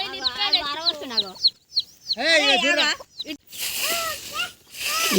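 A hen with ten chicks: harmonic cackling calls and clucks in bursts, with higher chick-like peeps and noise between them; fairly close.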